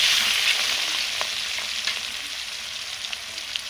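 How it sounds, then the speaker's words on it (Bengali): Chopped tomato sizzles steadily in hot mustard oil in a kadai, a dense close frying hiss with faint scattered pops and a soft stir scrape or two, no voices. "এদিকে কড়ার মধ্যে সরষের তেল দিয়ে দিয়েছি"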